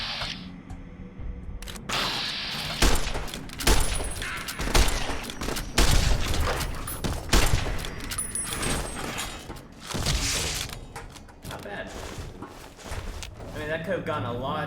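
Rapid gunfire in Fallout: New Vegas, with a reload in the middle: dense volleys of loud, close shots crackle almost continuously, broken by brief gaps and mechanical clacks, with someone talking over parts of it.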